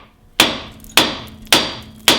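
Four sharp metallic hammer blows land about half a second apart on a steering knuckle, knocking loose a tie rod on a 1996–2007 Dodge Caravan or Chrysler Town and Country, each ringing briefly before the next.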